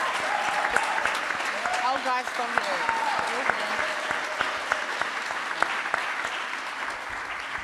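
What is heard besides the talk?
audience applause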